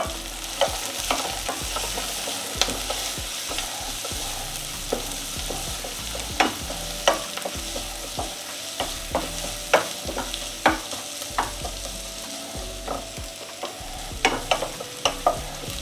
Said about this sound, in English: So in goes our ginger and garlic, which I've crushed. So let it fry along with the onion.